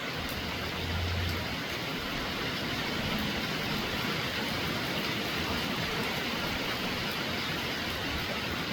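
Steady, dense hiss of rain falling on a farm, continuous and even throughout with no pauses, fairly soft and diffuse.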